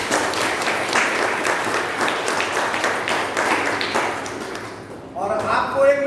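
Seminar audience breaks into loud, sustained applause for about five seconds, dense and steady, before it cuts off and a voice begins speaking near the end.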